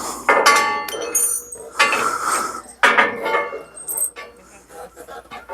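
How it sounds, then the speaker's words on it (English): A big bolt is undone while assembling an Iron Rhino 16 ft firewood conveyor, making loud, close metallic clinks and clanks in several bursts, with brief voices in the background. "Ian, can you undo that big bolt,"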